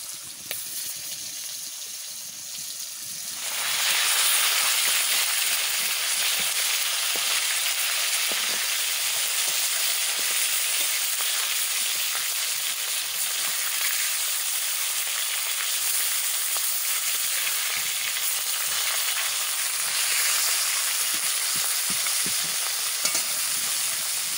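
Fish frying in a pan over a fire, a loud steady broadband sizzle that jumps up sharply after a few seconds of quieter kitchen sound and then holds continuously, with faint stirring clicks.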